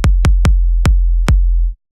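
Cashmere Signature Kick 02 kick drum sample, five deep electronic kick hits in an uneven rhythm, each with a sharp click and a long sustained low boom tail, loud and alone before cutting off.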